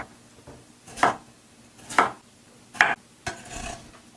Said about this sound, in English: I'm also going to carefully cut these fresh potatoes into very small cubes.